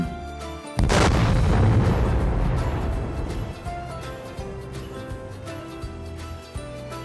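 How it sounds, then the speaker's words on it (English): A plane strikes the ground with a sudden heavy boom that rolls into a long rumbling decay. Lighter clatter and ringing tones follow beneath it. "this plane hit the ground with a bang and a boom"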